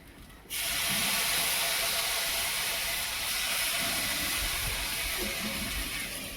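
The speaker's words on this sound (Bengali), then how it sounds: "আমি আবার একটু জলের ছিটা দিয়ে দেবো এই পাশটা" Water splashed onto fish cooking in a pan without oil, a sudden loud, steady hiss of steam that starts abruptly and holds for several seconds, close and alone.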